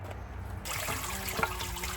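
Coolant drains from a Detroit Diesel Series 60 engine during a water pump replacement: a steady, close trickle and pour of liquid starts suddenly and keeps running, with a small knock partway through.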